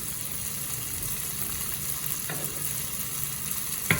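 Beans and broad beans stir-frying in a pan for a vegetable rice dish, a steady close sizzle with scraping stirs and a brief clink near the end, no talking.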